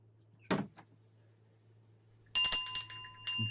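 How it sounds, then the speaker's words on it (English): A bell rings in a Christmas Carol audio play, a bright metallic ringing with shimmering overtones starting partway through and sounding twice, preceded by a short knock-like thud, fairly close with no talk over it. "Is it necessary to always have bells?"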